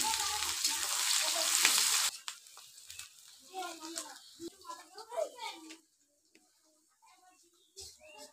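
Whole cardamom, cinnamon, peppercorns and cloves fry in hot oil in a kadai, giving a loud sizzling hiss for about two seconds. Then it drops to quieter crackle under a person talking.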